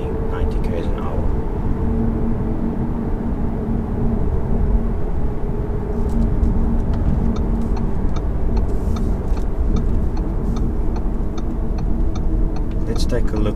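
A 2018 Audi S3 Sedan cruises in efficiency mode at light throttle in seventh gear around 80–90 km/h, giving a steady low engine and road drone with someone talking over it throughout.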